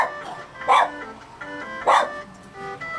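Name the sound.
dog barking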